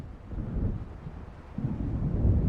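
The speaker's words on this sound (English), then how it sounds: "It seems there's a storm coming." In the video game Alan Wake, distant thunder from an approaching storm rolls in as a low, muffled rumble that swells twice over a few seconds.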